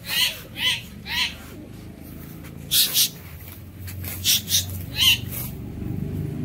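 A flock of Giribaz pigeons flies above a rooftop, with scattered pairs of sharp bird calls at the start, middle and end over a low background hum. Calls are close and fairly loud and there is no talk.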